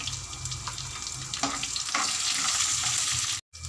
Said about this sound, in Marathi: आता ही मिरची छान परतून घ्यायची दाट येईपर्यंत यामध्ये